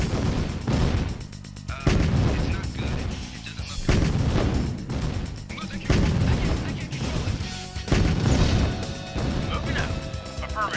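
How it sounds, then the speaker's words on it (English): Units in the 1995 real-time strategy game Command & Conquer: Tiberian Dawn open fire on a construction yard, with a run of heavy, booming artillery-like blasts landing every second or two under a dense, loud battle mix with voices. "Hopefully these guys can all fire at the construction yard"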